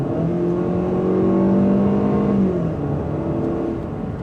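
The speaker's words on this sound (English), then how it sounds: "because it's a 4-cylinder and it's not turbocharged, it struggles a bit" A 2014 Ford Fusion SE with a non-turbo four-cylinder engine accelerates from inside the cabin, a loud, steady drone with rising engine tones that level off and then settle back.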